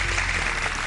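A short stretch of studio audience applause on a morning TV show, a dense, even wash of clapping with no talk over it.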